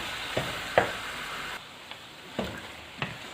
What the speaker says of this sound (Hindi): बहुत अच्छी तरह से भून चुका है